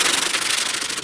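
Steady, continuous rasping of a sanding block scraping over body filler, close and loud, with a quick back-and-forth rhythm and no talking.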